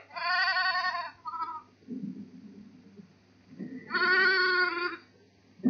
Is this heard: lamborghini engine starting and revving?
no